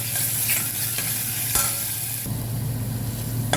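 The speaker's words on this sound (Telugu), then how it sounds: "ఇలా అల్లం పేస్ట్ కొంచెం వేగినాక" Ginger garlic paste fries in a pan for a shrimp biryani, a dense, continuous, close sizzle with a few small shifts in texture.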